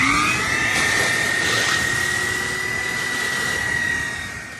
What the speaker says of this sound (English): Now I'm cleaning the air handler, excuse me, and I'm vacuuming out the drain line.